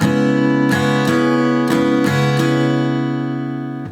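Acoustic guitar strumming a steady rhythm: sustained chords with several sharp strokes punctuating the ringing, played alone, close and fairly loud, fading at the end.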